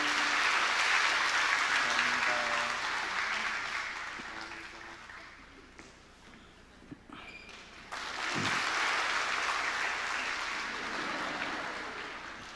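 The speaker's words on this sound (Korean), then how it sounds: "우리 박수로 이 아이를 축복합니다." A church congregation at a Sunday service applauds to bless a child, a broad wash of clapping that swells, dips quietly in the middle, then rises again before tapering off.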